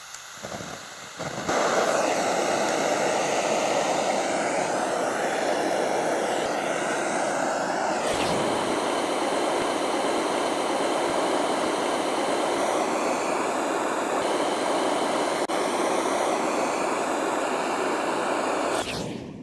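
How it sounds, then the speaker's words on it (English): A blowtorch flame heats a copper pipe joint for soldering, a loud steady roaring hiss that ignites after a brief quiet start and holds continuously for well over fifteen seconds before cutting off. "Then we're going to light our flame."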